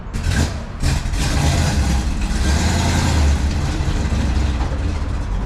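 A 1965 Plymouth Fury cruising at highway speed, its steady engine drone and road rumble continuous and loud throughout, with a brief dip near the start.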